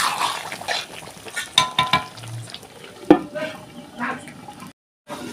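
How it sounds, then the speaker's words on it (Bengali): Country chicken curry with potatoes being stirred and fried in a pan: scraping spatula strokes, soft sizzling and clinks coming in uneven bursts, then a brief cut to silence near the end. "দিয়ে ভালো করে নেড়ে আমি ঢাকা দিয়ে দেব মাংসটা আমি ঢাকা দিয়ে দিয়ে কষতে থাকবো"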